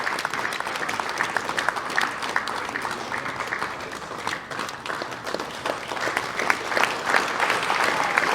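Audience at an award ceremony applauding a bronze-medal wrestler, sustained clapping from many hands at moderate volume, swelling slightly toward the end with no voices standing out.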